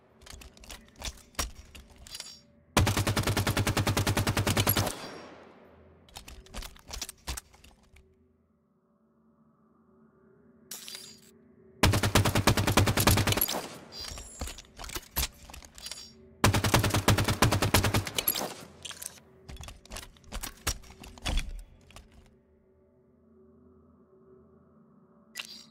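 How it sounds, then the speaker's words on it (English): Longshot assault rifle firing in Halo 5: three sustained bursts of rapid automatic gunfire, loud and close, separated by quiet gaps with no talking. "let's see how the different fire mode TTKs of a Longshot AR compare."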